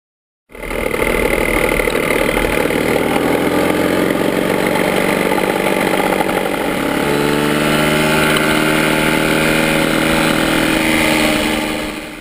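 A Puch MS50 70cc moped engine fitted with a 3D-printed fan wheel runs steadily at close range, a loud buzzing two-stroke drone that shifts pitch slightly partway through, with no voices.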